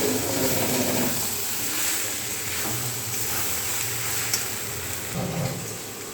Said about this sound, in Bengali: দেখো ভাজছি